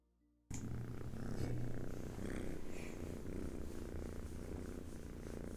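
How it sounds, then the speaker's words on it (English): A kitten purrs continuously up close, a soft rhythmic rumbling that starts suddenly after a brief quiet moment and carries on evenly. "And you absolutely do hear a purring kitten."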